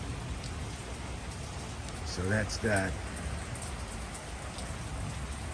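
Steady rain falls across a Los Angeles street on a Monday, a dense even hiss of drops filling the background from start to finish while someone speaks briefly in the middle.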